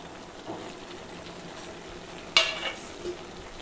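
Fish pieces, including bata fish, drop into a pan of cooking bottle gourd and set off a sudden sizzle over a soft background fry, with a smaller splash soon after.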